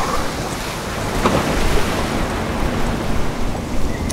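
Ocean waves crash and churn in a North Sea winter storm around a small sailboat, a dense, loud roar of surf and spray mixed with heavy wind buffeting the microphone, no voices.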